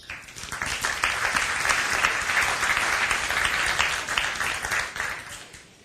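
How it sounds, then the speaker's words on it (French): Sustained audience applause at a Université du Québec leaders' gathering ceremony, dense clapping that swells in quickly, holds steady for several seconds, then tapers off. "c'est sans doute pourquoi il y a beaucoup d'applaudissements"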